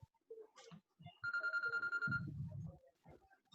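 A telephone ringtone sounds in the middle, a bright sustained electronic warble lasting about a second, framed by brief talk from a man before and after.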